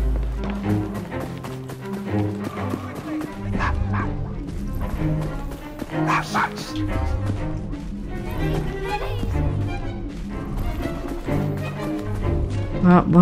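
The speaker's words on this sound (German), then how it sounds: "Feines Hundchen." Dog barking in the video game Assassin's Creed Syndicate, mixed into busy game audio with music and effects, the barks short and repeated at moderate distance under a steady, loud soundscape.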